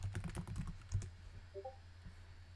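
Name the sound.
typing a message on a computer keyboard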